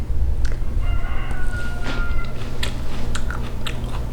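Crispy homegrown radish sprouts are bitten and chewed up close, giving a series of short crunchy snaps over a low background hum, without speech.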